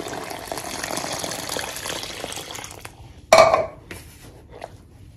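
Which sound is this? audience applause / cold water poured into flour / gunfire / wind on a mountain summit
cold water poured into flour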